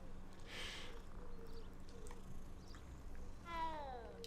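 A small cat meows in Hogwarts Legacy, a short, fairly faint cry near the end with a quieter mew earlier, set against low game ambience.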